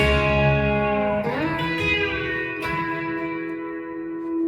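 A sustained B-bender electric guitar lick on the top strings, with notes bending smoothly up and down in pitch, ringing with echo, played alone without voices.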